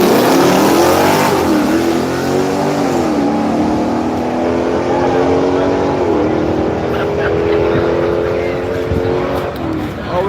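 Small-tire no-prep drag race cars rev and accelerate at a dragstrip, a loud, sustained engine roar with rising and shifting pitch that sweeps upward several times, heard close and continuous for about ten seconds.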